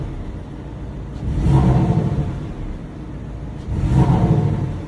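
Two short engine rev blips from a Porsche 718 with an AUTO-BLiP unit, each fired when the clutch is pressed, rising and falling over a quiet steady idle between them.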